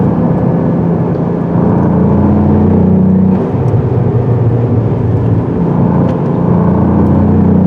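A 2022 Cadillac CT4-V Blackwing with a turbo engine and manual transmission accelerates hard on a road, its loud, close engine drone rising in pitch, easing briefly, then climbing again through gear changes.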